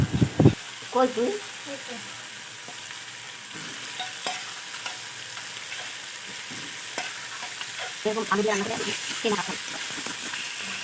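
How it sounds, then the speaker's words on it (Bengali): Potatoes for a Bengali rui fish curry with cumin tempering go into hot oil and spices, giving a quiet sizzle with a few loud stirring scrapes at the start and again near the end. "কষতে কষতে তেল একটু বেরিয়েছে, এবার আলুগুলো দিয়ে দেবো।"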